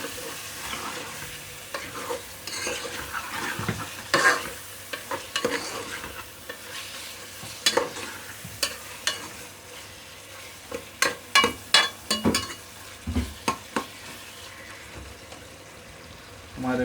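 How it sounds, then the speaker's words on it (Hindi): Chicken pieces fry with onions and spices in a pan for a cauliflower-chicken curry, sizzling steadily while a spoon scrapes and stirs in irregular bursts, the scraping growing busier toward the end. "इसमें हम चिकन भी डाल देते हैं। इसको भी भून लेते हैं चिकन को भी।"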